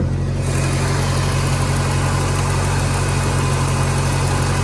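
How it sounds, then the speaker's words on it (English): A four-cylinder Ford Mustang Foxbody engine idles steadily up close, a constant low rumble with a faint buzzing hum and no voices. "this is the 4 spark plug engine, not the 8"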